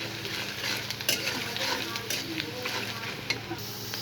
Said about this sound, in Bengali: এবার আমি এই তেলের মধ্যে আবার আমি পেঁয়াজ কুচি দিয়ে নিচ্ছি।